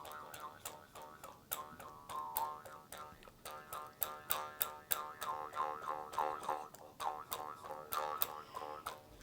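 An Ainu bamboo jaw harp (mukuri) twangs in a quick, bouncy rhythm, its buzzing, vowel-like tones wobbling up and down; fairly faint with a soft room hiss behind it.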